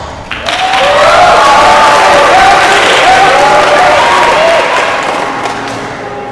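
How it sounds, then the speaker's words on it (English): An audience at a school final competition gives a warm round of applause, swelling quickly, staying full and loud for several seconds with faint cheering mixed in, then easing off toward the end. "This team is called Help Me. Please give a round of applause."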